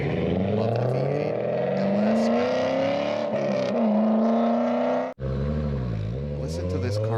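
A V8 LS-engined car revs hard through an autocross course, its engine note climbing and falling continuously for several seconds, loud and close, with a brief cut before the roar resumes.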